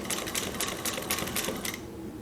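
A Juki DNU-1541S industrial sewing machine running in a fast, even rattling stitch rhythm for about two seconds before stopping, heard close and on its own.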